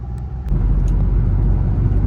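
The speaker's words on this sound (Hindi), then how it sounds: "एकदम खाली रोड और 60-70 पे गाड़ी चल रही है, मजा आ रहा है।" A car cruises at about 60–70 km/h on an empty early-morning road, with a steady loud low engine and road rumble heard from inside, no talking.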